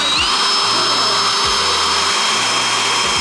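A power tool grinds, widening a hole during a widebody kit install on an R53 Mini Cooper, a steady close whine with a few brief dips in pitch.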